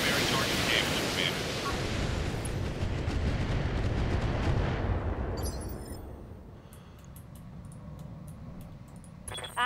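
Mech alpha strike in the BattleTech Advanced 3062 video game: a dense, loud barrage of booming weapons fire that rolls continuously for several seconds, then thins into a quieter rumble with scattered crackles.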